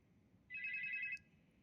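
A single short electronic telephone ring chirps once at moderate volume against a quiet room, then stops, with no one speaking.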